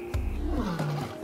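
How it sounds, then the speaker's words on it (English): A lion gives a deep roar, a single loud, close, gravelly call that falls in pitch, heard alone. "Lions have the longest larynxes or voice boxes and are capable of the loudest roars"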